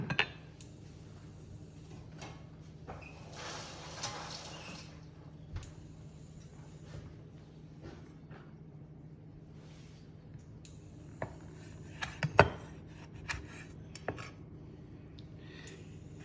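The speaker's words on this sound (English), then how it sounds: "cut these into some little chunks" A knife cuts monkfish into small chunks on a board, giving quiet, irregular taps and soft squishes with a few sharper knocks, with no talking.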